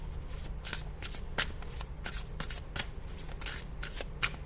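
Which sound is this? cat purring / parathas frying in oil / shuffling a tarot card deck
shuffling a tarot card deck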